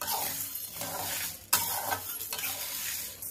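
Minapa sunnundalu and aloo bhujia frying in hot oil in a pan, a steady close sizzle with stirring scrapes and a sharp clink partway through, no voices.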